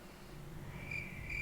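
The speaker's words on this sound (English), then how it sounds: "the crickets can be heard" Crickets chirp faintly at night in a couple of short thin trills over a low, quiet background hum.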